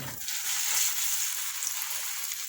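Coated beef brain sizzles steadily in very hot oil, a continuous bright crackling fry close up, heard on its own without voices.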